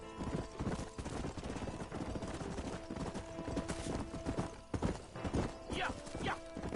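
Horse hooves clip-clopping in the Red Dead Redemption remastered video game on PS4, a steady near rhythm of hoof strikes under game music and ambience, with a brief whinny near the end and someone talking over it.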